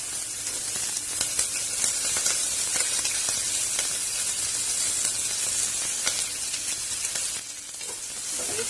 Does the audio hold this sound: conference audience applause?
no